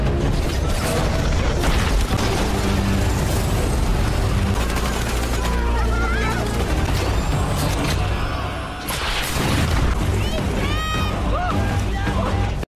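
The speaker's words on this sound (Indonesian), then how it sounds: "Kemudian Moose meledakkan bom dari atas" A film battle scene with a bomb blast dropped from above, loud crashing booms and debris among gunfire and chaotic action effects, dense and continuous with brief vocal shouts.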